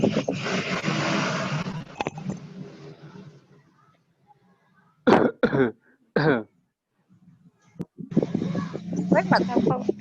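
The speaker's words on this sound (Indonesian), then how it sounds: "Batuk." Sharp bursts of coughing in a short cluster, with people talking before and after.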